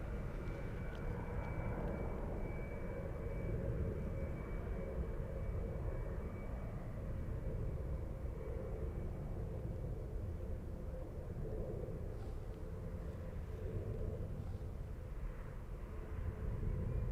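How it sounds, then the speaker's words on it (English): A KLM Boeing 737 airliner flies in from Schiphol toward Zurich airport, its engines a distant, steady low roar that holds throughout with no voices. "We have KLM. KLM, there you go, a 737. Flying in from Schiphol."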